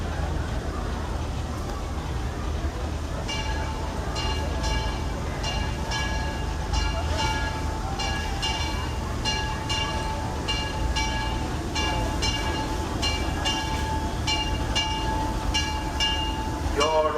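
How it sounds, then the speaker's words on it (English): The Disneyland Railroad steam train rolls into a station amid a busy theme park crowd: rhythmic clanking and clicking of wheels and rods, a steady mechanical rumble, and a hiss at the end, with murmuring voices underneath. "The Disneyland Limited, now arriving from a trip around Walt Disney's Magic Kingdom."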